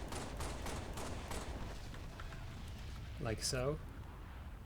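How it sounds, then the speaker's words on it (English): An asteroid explodes in the Halo Reach video game, heard as a run of rapid crackling, popping bursts that fade out. A voice then speaks briefly near the end. "the bigger we go, the more impressive the explosion"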